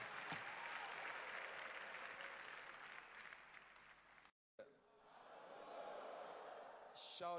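A church congregation claps loudly and continuously in dense, sustained applause, briefly cut off for an instant before resuming full.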